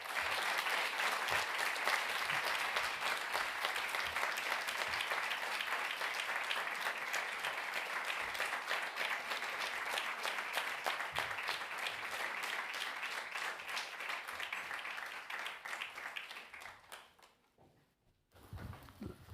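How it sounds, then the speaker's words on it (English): Audience in a lecture hall at Litteraturhuset giving warm applause to the speakers, a dense sustained clapping that holds steady before fading out near the end. "I would like to ask you for a very warm applause to our speakers"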